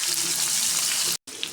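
Garlic dropped into hot oil already reddened with browned onions and leftover fish-frying oil sizzles loudly and steadily, a dense close crackle that cuts out briefly near the end and then resumes.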